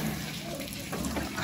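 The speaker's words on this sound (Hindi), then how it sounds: "अभी ये पानी को डाल रहा है।" Water poured over a goat during an outdoor bath, a steady splashing wash with a low voice talking faintly underneath.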